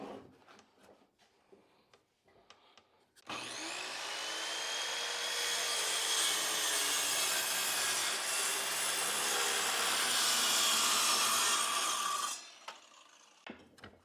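A sliding miter saw rips through a wooden board, one loud, sustained whining cut of about nine seconds that starts abruptly and winds down at the end, preceded by faint clicks and handling.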